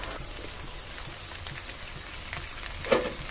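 Beetroot being sautéed in a pan for Tamil beetroot poriyal, giving a constant moderate frying sizzle with scattered crackles and a brief louder spatter near the end.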